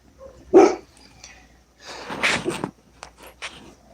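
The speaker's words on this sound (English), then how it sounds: "It's not like Bill to start barking" A dog gives a short, close bark, followed by snorting, huffing breaths and a few small scuffling sounds.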